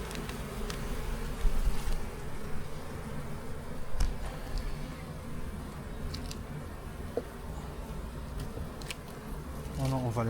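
Honeybees buzz steadily around an open hive during an inspection, a close, continuous drone with occasional handling knocks and rustles while people talk quietly nearby.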